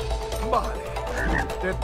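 A frog croaks inside the video game It Takes Two, a short burst of low croaks heard under game background sound.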